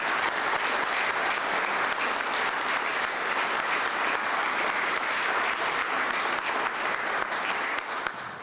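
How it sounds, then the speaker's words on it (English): Sustained applause from an audience honouring Bob Ostrowski at a ribbon-cutting ceremony for the new North Barn Pavilion at Holcomb Farm, a steady dense roar of clapping, loud and even throughout with no speech over it. "So I would like to give Bob a big round of applause."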